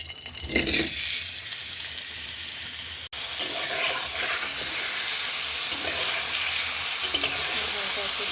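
Duck eggs hit a hot frying pan in a pumpkin-bori and coconut-milk curry, setting off a loud, steady sizzle that fills the whole stretch, with a brief dropout before the frying crackle resumes.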